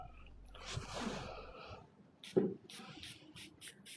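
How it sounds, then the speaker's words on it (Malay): A perfume atomiser on a glass bottle gives a short, close hiss of spray in an otherwise quiet indoor setting, with a few faint rustles afterward. "Itu semburan dia kan."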